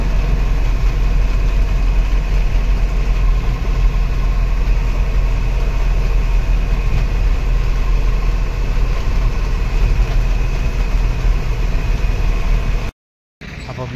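An old vehicle engine idles with a steady, loud low rumble that persists unbroken for most of the time before cutting out briefly near the end and resuming.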